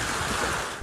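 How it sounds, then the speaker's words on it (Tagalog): Strong typhoon winds from Typhoon Nika batter trees in Dilasag, Aurora, making a loud, dense, continuous roar that holds steady through one short burst. "Halos matumba na ang mga punong yan sa lakas ng hampas ng hangin sa bayan ng Dilasag sa Aurora"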